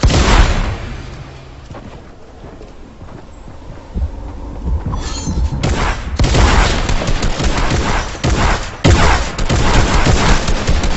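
Shotgun blasts in the Fortnite video game, heard as several loud, sharp gunfire bursts in the second half, with a quieter stretch before them.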